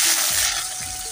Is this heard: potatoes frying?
yes